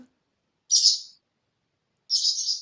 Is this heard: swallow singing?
yes